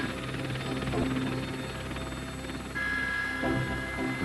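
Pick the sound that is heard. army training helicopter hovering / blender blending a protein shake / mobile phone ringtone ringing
army training helicopter hovering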